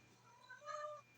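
A single short, faint meow from a cat, rising and falling in pitch over about half a second, heard alone against a low background hum.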